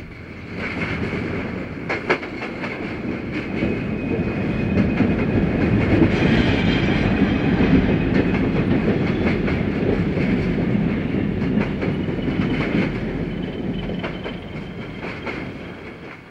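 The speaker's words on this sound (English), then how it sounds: "Another westbound freight and reefer train moves out as a rare Alco RS1 switcher with a red P and white C hurries by." A westbound freight and reefer train rolls out near Buffalo Central Terminal, a steady loud rumble with rhythmic clickety-clack of wheels over rail joints, building and holding throughout without voices.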